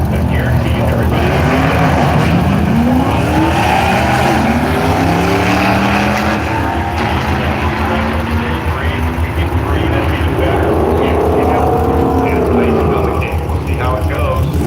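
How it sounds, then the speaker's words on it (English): A jet car roars down the track at Firebird Raceway, its loud engine rising and falling in pitch as vehicles pass, with constant talk over the noise. "We can just keep whistling cars down this racetrack."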